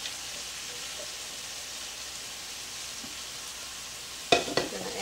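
A large chopped onion sizzles steadily in a hot pan, a continuous frying hiss with a few louder crackles and stirring clatters near the end, no talking.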